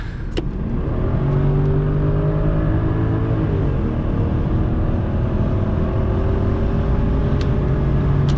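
A 2003 Audi A8 with a 4.2 V8 accelerating on a motorway, heard from inside the cabin: a steady, loud engine drone with rising harmonic tones as it pulls uphill, continuous over road and wind noise, with no talk.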